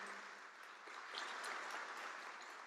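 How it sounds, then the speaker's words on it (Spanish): A church congregation gives a brief, faint round of steady applause during a worship service. "¿No le puedes dar un aplauso a nuestro Dios?"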